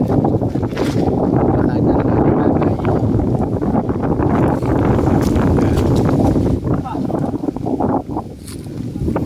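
Wind blows through a mango orchard in San Miguel, Bulacan, roaring loudly against the microphone in strong, continuous gusts, with people talking faintly beneath it.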